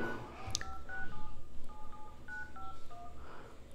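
Phone keypad tones dial a code on an Android smartphone, a quick run of about a dozen short beeps in an uneven rhythm, loud and close with no speech.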